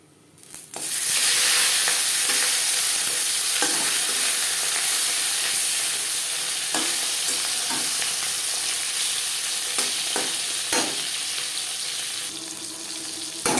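Loud, continuous sizzling and crackling of fish frying in hot oil, close up, with occasional pops and scrapes.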